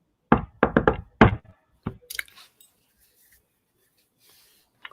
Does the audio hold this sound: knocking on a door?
yes